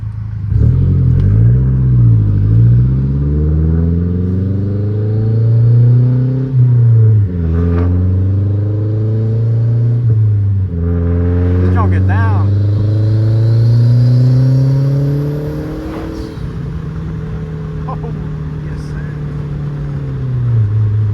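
A Honda Civic Si accelerates through several gears while driving. The engine note climbs in repeated rising sweeps with a drop at each shift, loud and close from inside the car, with a person talking briefly over it.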